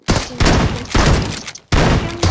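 Rapid bursts of gunfire from a shooting video game come in three loud, close volleys with brief gaps between them.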